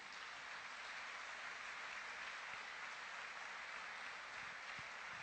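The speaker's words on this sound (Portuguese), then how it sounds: "Então aplauda o Senhor por isso." Sustained applause from a church congregation at a general meeting, a dense, even wash of clapping that holds steady at moderate level throughout with no pauses and no voices breaking through.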